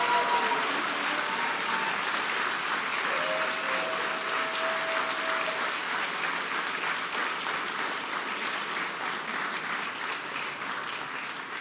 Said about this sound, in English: give a big round of applause to my bosses, the kids and the teachers of the St.